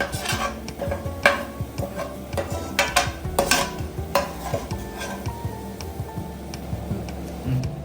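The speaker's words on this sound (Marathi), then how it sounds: "तर आता हे कांदे फ्राय झाले आहेत" Onions fry in a pan with a steady, close sizzle, while a spoon stirs and taps against the metal in a busy, irregular rhythm.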